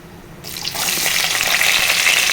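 Onion pieces drop into hot oil for a tomato curry and break into a loud, steady sizzle that rises sharply and then holds as a continuous bright hiss.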